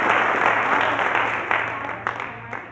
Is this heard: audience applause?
yes